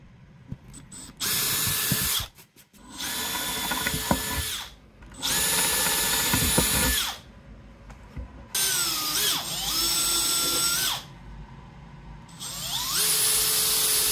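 A power drill pre-drills holes and drives screws into a wooden board, whirring in several separate bursts of a few seconds each, its pitch rising and falling as it bites in, with short quiet gaps between.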